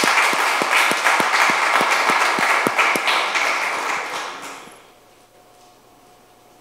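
Audience applause after a talk on why cancer is hard to treat: dense, steady clapping fills the hall for about four seconds, then fades out and leaves a quiet room.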